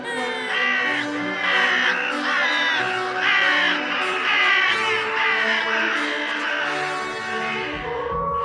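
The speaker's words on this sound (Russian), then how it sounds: "Любая ворона." Crows caw loudly and repeatedly in a steady, dense chorus of harsh calls close by, with no gaps, and no one speaks over them.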